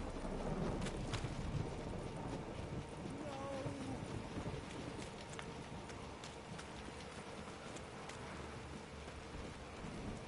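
Rain falls in The Witcher 3: Wild Hunt on PS4, a faint, steady patter with scattered sharper drops and low ambient game sounds beneath it.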